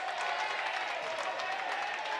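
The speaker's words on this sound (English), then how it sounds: "round of applause for the starting lineup for the St." Crowd applause at a boys basketball game for the St. Louis Park Orioles starting lineup, a dense, steady wash of clapping heard at moderate volume throughout.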